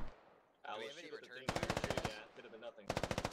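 Automatic gunfire from the tactical shooter Squad, two loud rapid bursts with steady rhythmic shots, broken by a stretch of muffled voices and radio chatter between them.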